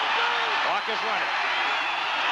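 Football stadium crowd at a 1978 Oklahoma at Nebraska college game roars in a broad, loud, sustained wash while a commentator talks over it.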